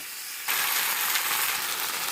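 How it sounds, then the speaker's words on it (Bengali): Jackfruit and potato hitting hot spiced oil, a sudden loud hiss that bursts in and holds as a steady, close sizzle. "মশলাটা কষানো হয়ে গেছে, এখন ইঁচড় আর আলু দিয়ে দেবো। এটা এখন ভালো করে কষিয়ে নেব।"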